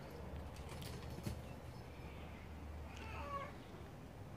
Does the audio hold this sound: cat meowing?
yes